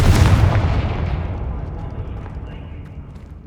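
Fiery Confringo spell blasts from the Hogwarts Legacy video game, one loud booming burst at the start that rolls off into a long fading rumble.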